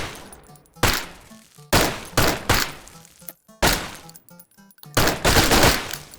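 Gun firing in a zero-gravity VR shooter, about eight loud, sharp shots in an irregular rhythm, each with a short decaying tail and quiet gaps between.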